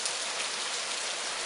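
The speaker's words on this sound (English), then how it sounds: "A heavy downpour flooded streets." Heavy rain pouring down in a steady, dense downpour, a constant loud hiss of drops striking surfaces with no pauses or other sounds.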